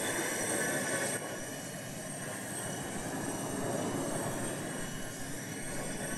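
A biplane taxis on the ground in the video game Arma 2: OA, giving a steady, droning engine rumble with broad noise that stays fairly constant throughout, moderately quiet and without talk.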